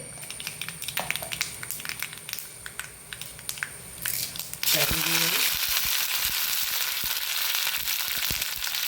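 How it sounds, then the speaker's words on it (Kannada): Soft kitchen clatter gives way halfway to a sudden loud burst of mustard seeds and spices sizzling and crackling in hot oil for tempering, which keeps hissing steadily. "ಅದರೊಟ್ಟಿಗೆ ಅದಕ್ಕೊಂದು ಹಿಂಗಿನ ಈಗ ಒಗ್ಗರಣೆ ಕೊಡ್ತೇನೆ ನೋಡಿ"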